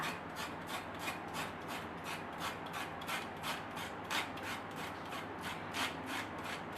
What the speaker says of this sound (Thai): ส่วนที่อร่อยที่สุดของเขาก็คือเนี่ยค่ะมเมล็ดที่ยังค้างอยู่แบบนี้ที่โคนมันนะคะ ขูดออกให้หมดเลยค่ะ